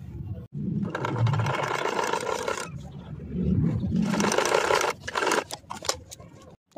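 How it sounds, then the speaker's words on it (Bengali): A sewing machine stitching a kameez sleeve, running in two long whirring bursts with a short pause between them, then a few quick stops and starts, close and loud. "এই যে এইভাবে ধরে পুরো এখানটা সেলাই করে দেবো।"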